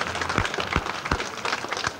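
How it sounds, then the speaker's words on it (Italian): Audience applause at a Mother's Day party game, a scattered crowd clapping steadily with sharp individual claps, moderately loud and alone without talk. "Allora facciamo un applauso di incoraggiamento"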